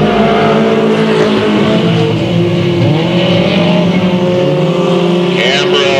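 Race cars at Delta Speedway thunder loudly side by side down the back stretch, engines droning and shifting pitch as they pass near, with a commentator talking over the din.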